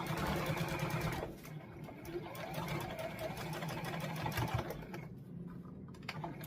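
Sewing machine stitching a jacket, running in a fast continuous rattling buzz that pauses briefly and resumes, close and fairly quiet.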